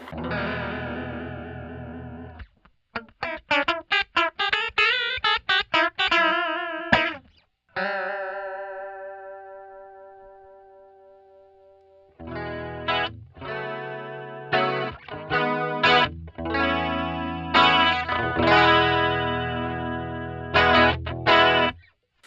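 Electric guitar through a Roland Jazz Chorus amp's chorus effect at full rate and depth, its notes and chords warbling and wobbling in pitch, played in bursts with short pauses.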